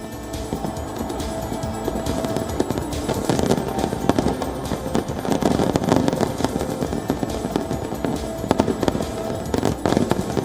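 New Year fireworks burst over Copacabana, Brazil in a dense, continuous barrage of crackling pops and booms. The bursts stay loud and overlapping throughout.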